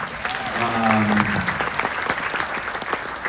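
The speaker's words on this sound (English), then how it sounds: "I hope you're all voters out there applauding us here." Studio audience applauding at a television drama Q&A panel, a steady dense wash of clapping that swells and then holds under faint voices, with a few brief tonal sounds early on.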